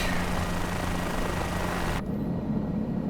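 A Guimbal Cabri G2 helicopter in Microsoft Flight Simulator 2020 drones with a loud, steady rotor wash and engine roar; the bright upper hiss drops away abruptly partway through while the low rumble continues.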